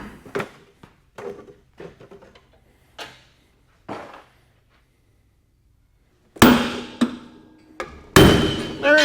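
Sharp, loud metallic sledgehammer blows strike a part of a John Deere sprayer lift kit held under hydraulic pressure, two heavy hits ringing out near the end after a stretch of lighter thumps and quiet.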